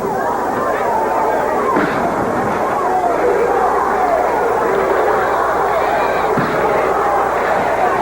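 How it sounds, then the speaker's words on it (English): At a Memphis wrestling show, an unruly crowd pushes toward the ring, a dense, steady roar of shouting and babble with occasional thuds and slams beneath a commentator's voice. "The crowd beckoning for someone else to come from the back."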